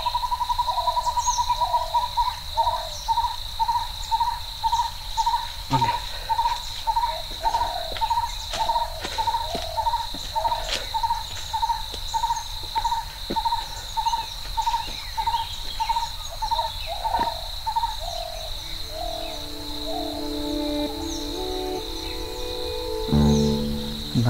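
Forest near Yanaimalai in Alamparai, Nagercoil, Tamil Nadu: a bird gives a long run of evenly spaced, close repeated hoots over a steady high insect drone, with other scattered calls in the background.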